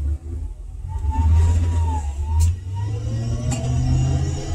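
A car blows through a busy intersection without stopping, its engine a steady rumble of passing traffic that swells and holds close by, with faint chirps above and no talk.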